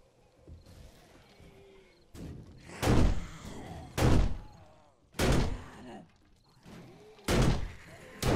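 In the 7 Days to Die survival game, a zombie pounds on a wooden door with loud, heavy thuds spaced roughly a second apart, while a person talks quietly in between.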